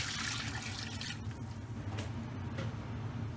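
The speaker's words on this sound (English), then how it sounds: "we want to top them up with some cold water" Cold water running from a tap into a pot of potato wedges, a steady hissing gush with faint splashing, quiet and continuous.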